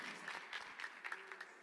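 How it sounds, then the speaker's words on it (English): Crowd at a PUBG Mobile esports tournament arena cheering and applauding, a steady wash of claps and shouts with a few louder swells, heard a short distance away. "I love hearing that crowd"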